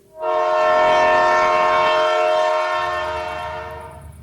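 A train sounds a single long, loud horn blast lasting about three seconds as it approaches, with the rumble of the rolling train continuing beneath as the blast fades.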